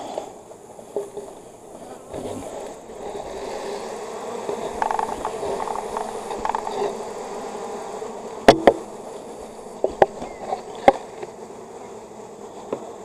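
Honey bees work at an open beehive during a winter inspection, producing a steady close buzzing swarm drone, with a few sharp scraping clicks toward the end.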